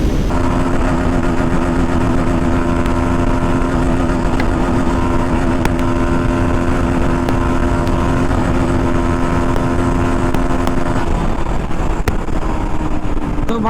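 Pulsar NS 160 and Apache RTR 160 4V motorcycles drag racing at top speed, a steady loud engine drone with sustained harmonic whine running throughout, no speech.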